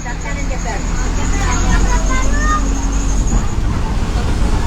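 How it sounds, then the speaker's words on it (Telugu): A Tenali to Thippalakatta bus departing from a busy bus stand, its engine rumbling steadily with a rising tonal whine amid crowd babble and traffic noise. "తిప్పలకట్ట బస్సు బయలుదేరింది తెనాలి బస్ స్టాండ్లో"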